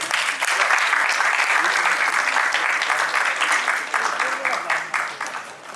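Audience at a ceremony applauding, sustained loud dense clapping from a crowd that holds steady and slowly fades toward the end.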